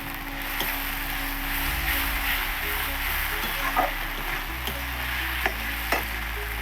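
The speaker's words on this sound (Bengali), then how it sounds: "এটার মধ্যে জিরে আর আদা বাটা দিয়ে দিচ্ছি মশলাটা ভাজতে" Cumin and ginger paste sizzle steadily in a hot pan where tomato is already frying, with a few sharp spatula taps and scrapes breaking through the constant hiss; no one speaks.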